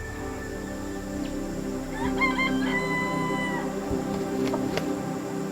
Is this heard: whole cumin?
no